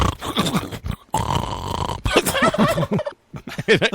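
Turkeys gobble in repeated rattling bursts, fairly close and loud, with short pauses between calls and no talking.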